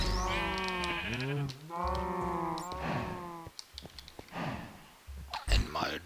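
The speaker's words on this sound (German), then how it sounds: "Und dann schnappen wir uns unsere beiden Schafe." Sheep in Minecraft bleat twice in long, wavering cries over the first three seconds, followed by softer clicks and shuffling sounds with no talking.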